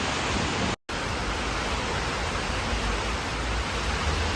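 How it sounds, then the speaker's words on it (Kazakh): Steady broadband hiss of rain falling outside a home, loud and continuous with a brief dropout near the start, no voices. "Дала жаңбыр жауып кетті."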